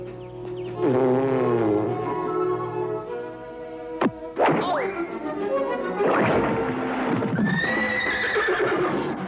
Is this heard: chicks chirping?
no